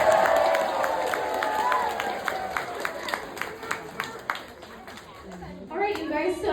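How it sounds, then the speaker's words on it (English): Sparse, rhythmic clapping from a small outdoor audience at an elephant show, with individual claps spaced evenly under crowd murmur and children's voices, followed by a person speaking near the end. "go ahead and give her a round of applause."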